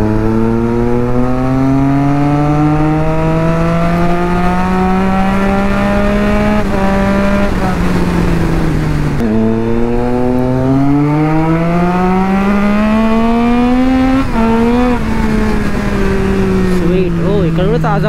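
A Triumph Street Triple 675 motorcycle revs hard as its rear wheel spins on Diablo tyres, its loud engine pitch climbing steadily, dropping at a gear change, then rising again close by.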